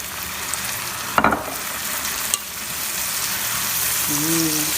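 Soy sauce hits a hot pan with a sudden burst of sizzling that settles into a steady fry, with a couple of clatters and a voice briefly heard near the end.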